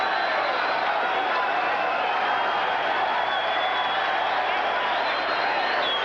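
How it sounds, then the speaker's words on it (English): Spectators at a boxing match in Las Vegas applaud and cheer in a dense, continuous roar of crowd noise that holds steady throughout, with a faint voice beneath it. "Crowd likes it. Very appreciative crowd here in Las Vegas."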